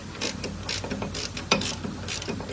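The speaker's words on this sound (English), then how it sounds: "Let's get that bolt out of there." Ratchet wrench working a loosened bolt on the power steering pump of a Hyundai XG350, a series of quick metallic clicks and clacks in an irregular rhythm, close up.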